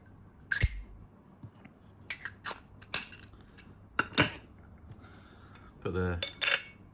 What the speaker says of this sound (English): So when you're finished, fold these up, slot them back in here.